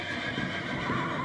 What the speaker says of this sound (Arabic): ايه ده؟ الحصان!